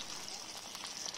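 Butter fish (pabda) coated with salt and turmeric frying in mustard oil, a soft, continuous crackling sizzle at low volume.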